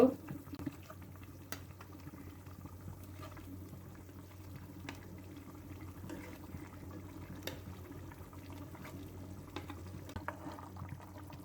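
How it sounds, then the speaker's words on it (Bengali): Tomato gravy for a coral fish curry simmers in a pan, a low steady bubbling with faint pops and small liquid ticks, quiet and close with no clear speech. "সুন্দরভাবে ঝোলগুলো ফুটে উঠেছে"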